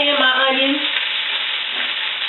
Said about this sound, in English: So right now, my potatoes are browning up really nice. So I'm going to add in my onions.